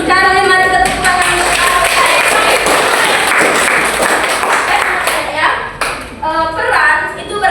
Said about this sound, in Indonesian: Kami mari kita tepuk tangan.